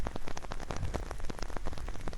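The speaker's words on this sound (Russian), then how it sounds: "Дождь так и идет, конечно, но он уже облажной." Steady rain patters on surfaces during a mountain hike toward a stream, a dense, continuous hiss of drops close by with no voices.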